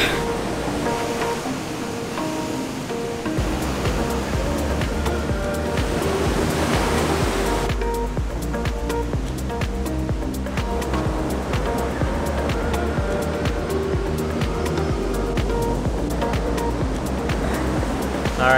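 Steady roaring rush of a waterfall at a Caribbean beach, loud and continuous throughout, with the constant hiss swelling slightly partway through.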